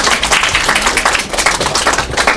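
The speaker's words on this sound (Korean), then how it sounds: "큰 박수 부탁드릴게요." A university class in Korea applauds a student group with dense, continuous clapping from many hands, loud and close, with an uneven pattering rhythm throughout.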